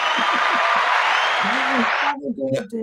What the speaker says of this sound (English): Round of applause for Subro, everyone.